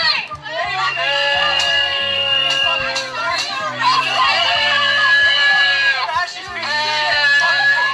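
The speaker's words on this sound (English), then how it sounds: "they're yelling 1, 2, 3, fuck the bourgeoisie, as Candace Owens exits the restaurant after having breakfast" Protesters yelling outside a restaurant, a loud mass of overlapping shouts and screams with chanting voices rising and falling throughout, close and busy.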